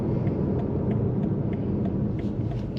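BMW M5 Competition engine pulling hard on a night drive, a dense, loud, low rumble that holds steady throughout, heard from inside the car with no talk.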